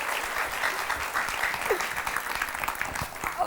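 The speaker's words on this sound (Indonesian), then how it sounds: "Tepuk tangan dong untuk Bunda Maya" Studio audience applause at an Indonesian television talk show, a dense, even wash of clapping from many hands that carries steadily through, with no speech over it.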